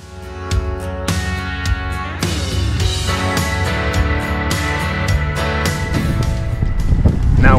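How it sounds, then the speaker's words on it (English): Wind blusters across a bike path in the Val d'Adige valley during a group ride, a continuous rumbling roar into the microphone that swells and grows rougher toward the end, with tonal bits of background sound mixed in. "It's a bit windy."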